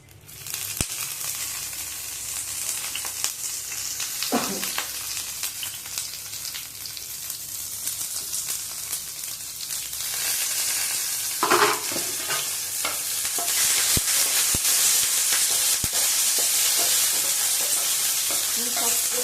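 Dried chillies and curry leaves fry in hot oil, a bright continuous sizzle that grows louder midway, broken by a few sharp knocks of a spoon stirring the pan, close up with no talk.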